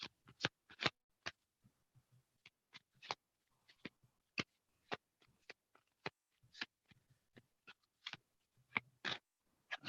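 Tarot cards are shuffled close by, with quick, sharp riffling snaps and slaps coming in irregular bursts against near silence.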